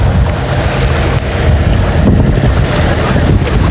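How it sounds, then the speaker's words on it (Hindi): Cold wind blowing by a river during rain, a steady rough roar buffeting the microphone throughout, with heavy low rumble and no clear pauses. "बहुत ठंडी हवा है यार, बहुत ठंडी हवा है।"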